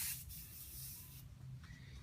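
Spray-bottle glass cleaner is misted and wiped over car wheels: a steady breathy hiss for about a second, then softer close rubbing and wiping.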